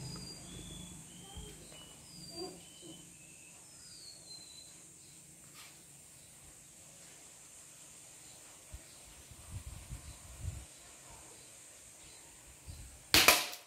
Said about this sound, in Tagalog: Lagapak, ang lakas na impact